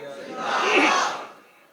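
Crowd at a Muharram majlis gathering in Mangowal Khurd shouting a religious slogan in unison, one loud swelling collective cry that rises, peaks and fades within a couple of seconds.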